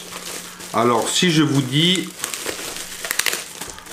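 Packaging being unwrapped during an unboxing, with crinkly plastic and rustling mostly buried under a person talking, then brief crackles as the speech fades.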